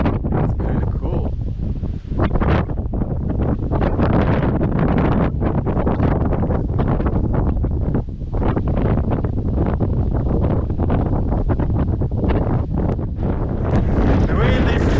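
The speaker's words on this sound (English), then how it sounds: "The wind is serious up here." Strong wind gusting over open water in a high, exposed mountain setting, a loud continuous roar buffeting the microphone with rough surges and brief lulls.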